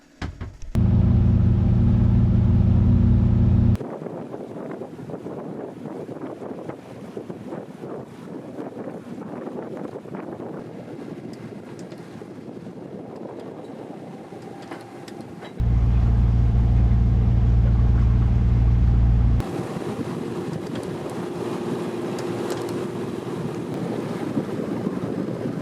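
Strong, steady wind on a sailboat at anchor roars and buffets the microphone throughout, with deep low rumbling bursts near the start and again later.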